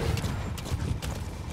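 Horse hooves clip-clop in Metal Gear Solid V, a quick, close run of hoof beats that stays loud and rhythmic for a moment, with no voices.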